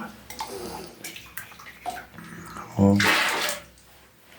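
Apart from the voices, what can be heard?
water poured into flour for homemade bread dough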